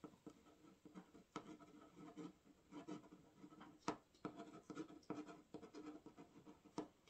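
Pen scratching across paper in quiet handwriting strokes, close and fairly faint, with short bursts and small taps as words are formed and lifted.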